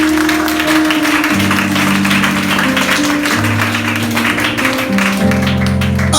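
A church congregation claps and cheers in praise of the king of kings, a dense wash of applause over loud, sustained keyboard chords during a worship service.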